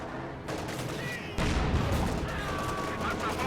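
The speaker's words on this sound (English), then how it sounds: "Contact! MG-42! They're hitting our flank. We're taking effective fire." MG-42 machine gun fire in a WWII strategy game: rapid, dense bursts of gunfire rattling continuously, growing louder midway, mixed with distant battle noise and background game sounds.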